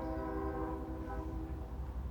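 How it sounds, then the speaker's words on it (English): A train passes outside, its horn sounding as steady tonal blasts over a continuous low rumble of rolling wagons, loud and sustained throughout with no talk. "And there is our daily train."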